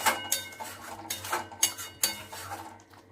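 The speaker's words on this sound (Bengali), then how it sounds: "এবার সব কিছুকে ভালো করে মিশিয়ে দেব।" Spoon scraping and clinking against a pan while egg butter masala gravy with coriander leaves, kasuri methi and garam masala is stirred, irregular close metallic strokes repeating over a low steady hum.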